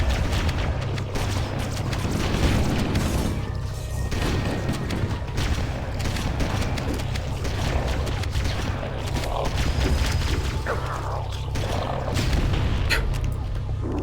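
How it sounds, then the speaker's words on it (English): A grenade explodes during a firefight in Halo: Combat Evolved, a loud boom amid dense, continuous game gunfire and battle noise throughout. "The way the grenade bounced almost killed me."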